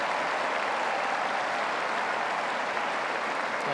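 Spectators at a tennis match applaud a shot by Roger Federer, a broad, even wash of many hands clapping that holds steady without pause, with no voices standing out.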